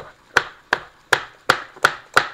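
A knife chopping a jalapeño chili on a cutting board while preparing a simple salsa: six sharp, evenly spaced chops, close and crisp, with no talk.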